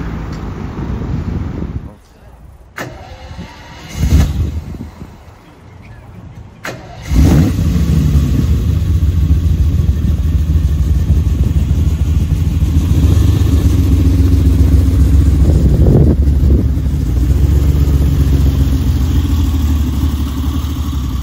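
On a Paris street, a yellow Ferrari 296 and a Porsche GT3 Touring pull past, with sharp engine bursts followed by a sustained loud rumble that swells and drones on, mixed with people talking.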